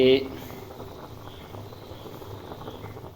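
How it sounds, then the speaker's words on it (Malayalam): Chicken curry cooked with chili and topped up with hot water bubbles in a pot on the stove, a soft steady simmer under a quiet room after a brief louder knock at the start. "നമ്മളെ ചിക്കൻ കറി അടുപ്പത്ത് വെച്ചിട്ടുണ്ട് കേട്ടോ തിളയ്ക്കുന്നുണ്ട്"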